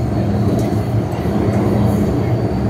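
A moving train in Hong Kong fills the interior with a continuous loud, low rumble and rolling wheel noise, steady throughout.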